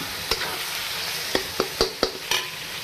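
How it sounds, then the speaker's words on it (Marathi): Masoor lentils fry in a pan with a steady close sizzle, broken by several sharp spoon knocks and stirring scrapes in quick succession near the end. "अशा रीतीने आपण त्यात मसूर घातलेली आहे ती आता आपण 1 ते 2 सेकंद छान फ्राय करून घेऊ"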